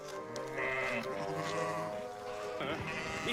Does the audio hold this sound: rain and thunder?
no